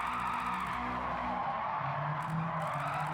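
A car in the racing game Gran Turismo 7 drifts through a handbrake-initiated slide, its tires skidding and squealing in a continuous moderate hiss over a steady engine drone.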